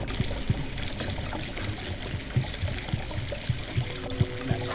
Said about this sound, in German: Hier unten können wir 3 Liter Wasser reinmachen.